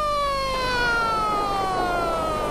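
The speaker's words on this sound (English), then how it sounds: "Under shell fire, a Mujahideen ambulance heads up to the front line." A Mujahideen ambulance siren wails loud and continuous near Jalalabad, its rising and falling electronic tone heard up close while the vehicle heads toward the front line under shell fire.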